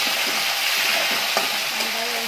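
Onions sautéing in a pan for a mixed vegetable dish, a dense, close frying hiss with light scraping stirs and no speech.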